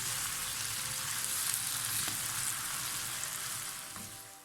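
Boiled noodles being stir-fried for chowmein, a soft even sizzle with light tossing and an occasional clink, fading slightly toward the end, no speech.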